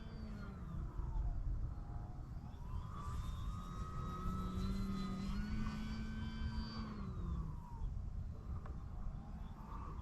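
An OMP Bighorn Pro RC sport plane with flaps flies on its maiden flight, its electric motor whining steadily and shifting in pitch as it passes overhead, loud and continuous with no talk.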